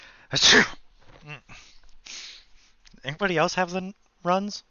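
A single sharp sneeze bursts out during a tabletop role-playing game session, loud and close, followed by several people talking.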